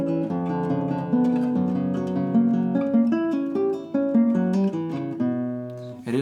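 Solo classical guitar performs bars 9-10 of Barrios' La Catedral as in the Stover edition, following the manuscript: steady rippling arpeggios over low bass notes, intimate and unaccompanied, closing on a soft final chord.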